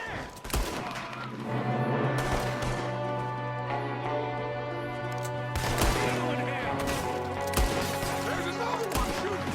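Shootout in the western game Red Dead Redemption 2, with scattered gunshots, loud cracks and crashes over a sustained low tone and background music.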